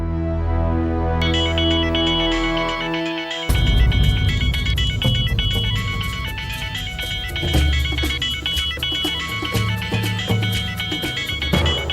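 Phone ringtone playing loud and continuous, a bright synth melody that starts sparse and then swells into a fuller repeating tune with a beat, heard alone with no talking.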